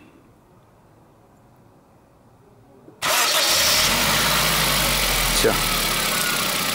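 A Suzuki Liana 1.3 with a repaired cylinder head gasket cranks and starts after about three seconds of quiet, then settles into a loud, steady idle close by, with a brief word spoken before it starts.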